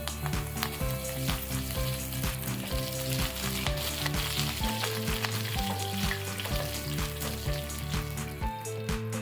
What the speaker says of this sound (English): When the mustard seeds start sputtering, add the urad dal.